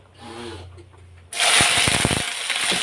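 Flat beans and eggplant hit hot oil seasoned with black cumin in a home kitchen, bursting into a loud, continuous sizzle and spatter after a quieter moment with a voice.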